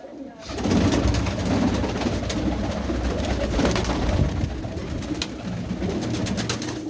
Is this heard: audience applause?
no